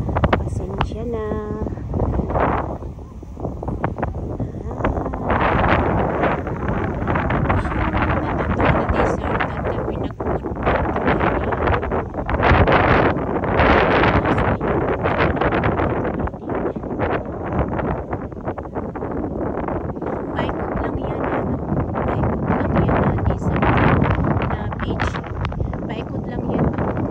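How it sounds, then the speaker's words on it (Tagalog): Steady, loud wind buffets the microphone outdoors for the whole stretch as a broad roaring rush. A person talks intermittently beneath the noise. "Medyo maingay kasi ang hangin."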